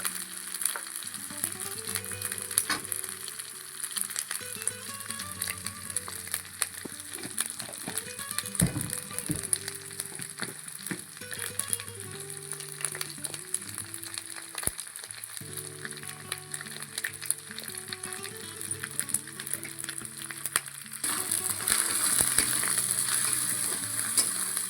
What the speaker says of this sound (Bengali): একটু নাড়াচাড়া করে নিই, লঙ্কাটা একটু মরে যায়।